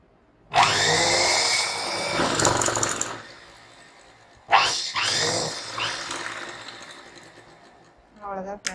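A sewing machine runs in two long bursts, close and loud, stitching the hemmed edge of a towel, with a short pause between runs and a brief clatter at the end.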